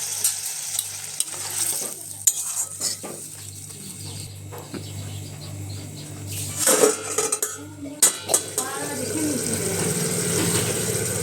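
Metal pot and utensil clatter in a home kitchen during a ponka greens and poppy-seed curry, with a few sharp knocks around 7–8 seconds as the lid goes on, over steady frying hiss and low hum.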